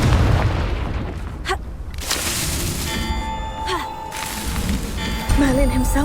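Explosive Confringo spell blasts in the Hogwarts Legacy video game, with booming impacts, crackling debris and ringing magical tones amid busy combat noise, as character voices call out.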